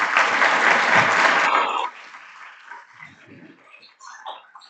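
Audience applause welcoming Tom Boldt, chairman of the Boldt Company, at a Rotary Tuesday luncheon. A loud, dense burst of clapping lasts under two seconds, then quickly thins and fades into faint room noise.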